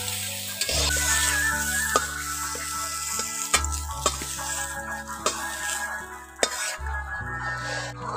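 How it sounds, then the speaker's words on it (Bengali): Cauliflower florets fry in hot oil while being stirred in a pan, a steady sizzle broken by repeated scraping strokes and sharp clinks of the spatula against the metal. "এখন ফুলকপিগুলোকে ভালো করে নাড়াচাড়া করে ভেজে নিচ্ছি"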